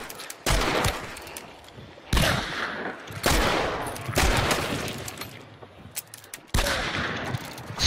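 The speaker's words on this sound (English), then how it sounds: "Man, these dual pistols are very inaccurate." Dual pistols firing in the video game Hunt: Showdown, several loud, sharp shot bursts spaced across the clip, each trailing into echoing decay, with no talk.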